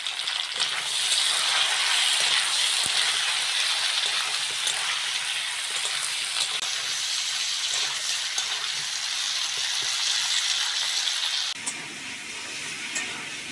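Bitter gourd and potato pieces fry in a pan with salt and turmeric, making a continuous close, even sizzle that drops slightly softer near the end.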